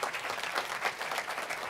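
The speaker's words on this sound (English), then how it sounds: "clap your hands, something" Short burst of steady hand clapping from an audience at a church-hosted voter education workshop, moderately loud and continuous with no talk over it.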